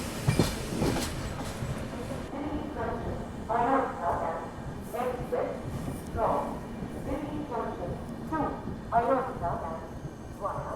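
Passenger train departing a station in India on the Lucknow–Kathgodam route, its carriages rolling past with steady rumble and faint rhythmic wheel clatter, while people talk nearby throughout.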